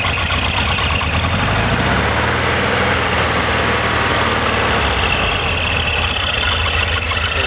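A restored 1965 Porsche 912 idles outdoors in pouring rain, a steady low engine rumble close by under a dense hiss of rainfall, with no one talking.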